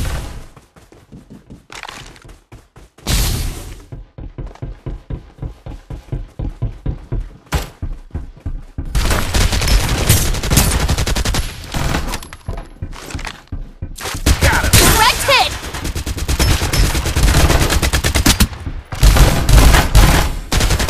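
Rapid gunfire from the mobile battle game Farlight 84, with dense bursts of automatic shots and loud volleys that come and go, growing more intense and near-continuous in the second half.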